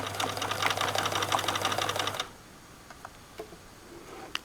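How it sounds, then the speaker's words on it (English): Home sewing machine stitching jumpsuit fabric, a steady fast mechanical whir and tapping for about two seconds, then stopping abruptly, leaving faint light clicks and handling noises. "And then we are just adjusting and keep on sewing."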